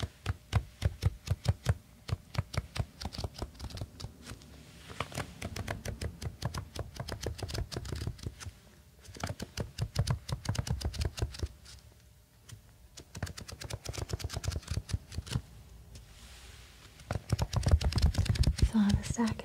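A stack of envelopes is handled up close, giving soft, rapid tapping and flicking in bursts with short pauses, under gentle whispering.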